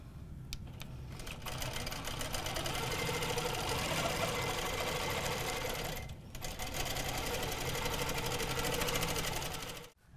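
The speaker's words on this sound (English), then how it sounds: "So why don't we stitch a few and then we'll come back and show some things you can do with this." A sewing machine stitches along a ruler foot, a spinning wave ruler guiding the quilting, with a fast steady needle rattle running close and loud, a short pause near the middle, then stitching resumes until it stops at the end.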